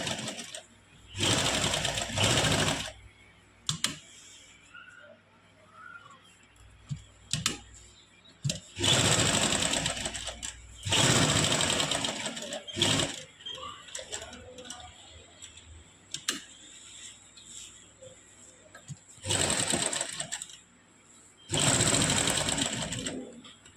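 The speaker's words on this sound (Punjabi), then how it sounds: "ਬੁਕਰਮ ਦੇ ਨਾਲ ਨਾਲ ਆਪਾਂ ਸਾਰੇ ਸਲਾਈ ਲਗਾ ਲੈਣੀ ਆ" Sewing machine stitching a shirt neckline along buckram in repeated short bursts, each lasting one to two seconds and separated by quiet gaps and light handling sounds over about twenty-four seconds.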